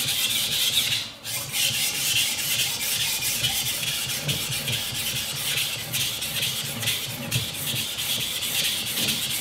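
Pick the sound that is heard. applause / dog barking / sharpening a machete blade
sharpening a machete blade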